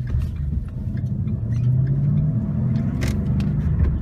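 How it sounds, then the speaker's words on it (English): A 2012 Ford Mustang GT with a manual clutch rumbles steadily on a test drive, its engine a low continuous drone heard from inside the car. "Let's go take it for a drive."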